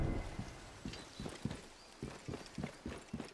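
Horse hooves clip-clop in the Assassin's Creed Origins video game, a steady rhythmic series of hoofbeats at moderate distance with no talking.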